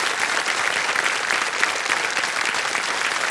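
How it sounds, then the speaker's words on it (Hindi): The studio audience of the game show Kaun Banega Crorepati bursts into loud, sustained applause, a steady roar of clapping with no pause. "अरे ताली बज जाए इनके लिए।"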